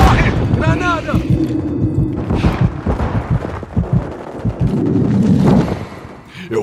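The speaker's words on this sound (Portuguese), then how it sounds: "Granada! Granada! Granada! Corre! Granada!" Grenade explosions and gunfire in Call of Duty Modern Warfare 3 produce sharp booms and bursts amid battle noise, while a player shouts over the action.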